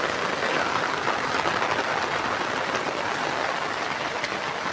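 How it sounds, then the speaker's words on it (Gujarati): Heavy rain pours steadily over a village lake in Sartanpar, a dense, continuous hiss of drops hitting water and ground that stays loud and even throughout, with no voices. "જોઈ શકો છો ફૂલ વરસાદ ચાલુ થઈ ગયો છે એકદમ"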